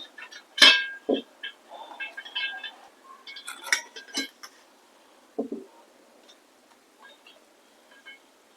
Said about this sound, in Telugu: ఒక డ్రాగన్ ఫ్రూట్ తీసుకొని పైన తోలు తీసుకొని కట్ చేసుకోవాలి